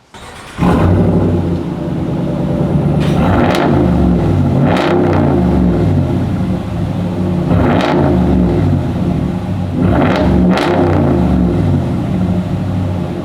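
A Dodge Ram 1500 pickup with a Borla Atak exhaust rumbles steadily, broken by about five sharp revs spaced a second or two apart, each swelling and dropping back to a deep idle.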